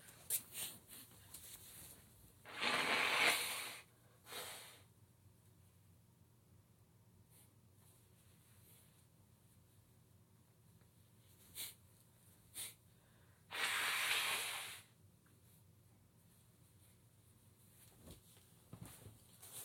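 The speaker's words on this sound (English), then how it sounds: "I gotta blow my nose." Two short bursts of forceful nasal blowing into a tissue a few seconds apart, close and fairly loud, with quiet rustling and faint breathing between them.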